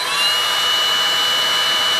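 A DeWalt DCE530 hair dryer runs its fan at a steady, loud, close whir with a high-pitched motor whine, unbroken for the whole stretch.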